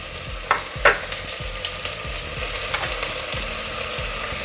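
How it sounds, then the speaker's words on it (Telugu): Curry leaves and slit green chillies sizzle steadily in hot oil for mutton pulav, a loud, close frying hiss broken by scraping stirs and a couple of sharper spatters. "ఇలా ఫ్రై చేసుకోవాలి"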